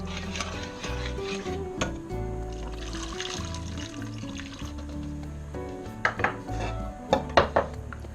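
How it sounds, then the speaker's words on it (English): Beef broth poured into a pot on the stove, a steady liquid fill with metal pot clatter and a few sharp clinks of utensils near the end. "And then we're going to add our beef broth, which is 5 cups."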